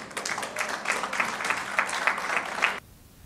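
Audience applause at a youth council birthday gathering as a mother comes up, a steady burst of many hands clapping that stops abruptly near the end, leaving quiet room tone.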